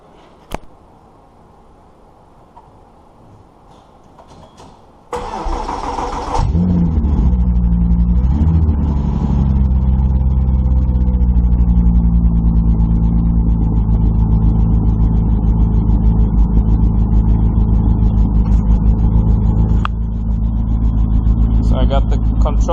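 A motor cranks with a short burst and then catches, settling into a loud, steady, close running hum that holds on without a break.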